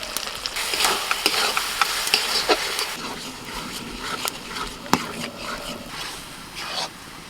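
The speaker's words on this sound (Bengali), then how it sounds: "আদা রসুন সব পেঁয়াজ ভাজা হয়ে গেছে মশলাটা দিয়ে দিন" Spice paste of ground coriander, cumin and chili mixed with water hitting a pan of fried onion, ginger and garlic, with a soft sizzle and scraping stirs ticking intermittently over a quiet kitchen background.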